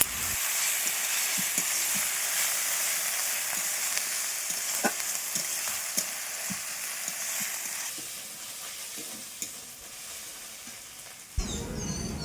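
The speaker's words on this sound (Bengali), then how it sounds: "আদা রসুন পেস্টটা দিয়ে ভালোভাবে নেড়ে চেড়ে এটাকে ভেজে নিতে হবে।" Ginger garlic paste sizzles loudly in hot oil while being stirred in a village kitchen, a steady dense hiss with soft scraping strokes throughout and a brief clatter near the end.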